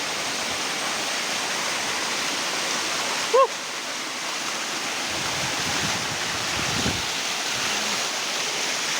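A waterfall in an estate below Pannimala hill rushes in a steady, even wash of water, with one brief chirp-like call early on and a faint knock later.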